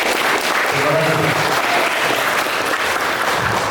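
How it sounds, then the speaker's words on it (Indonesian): Dense audience applause in a university hall, loud and continuous for a few seconds, with faint voices murmuring beneath the clapping. "Ya, tepuk tangan untuk kita semua."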